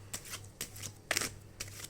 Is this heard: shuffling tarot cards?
yes